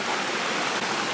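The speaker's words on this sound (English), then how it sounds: "Making our way through the waterfall." Reach Falls waterfall in Jamaica, a steady broadband rush of falling and streaming water, close and continuous throughout with no voices.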